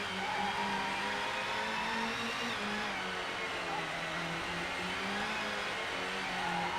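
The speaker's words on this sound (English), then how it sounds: "The car behind me sounds a bit like a vacuum cleaner." A rival car's engine in the racing game GT 64: Championship Edition gives a steady, loud, vacuum-cleaner-like whine with a droning tone that wavers slightly and runs unbroken throughout.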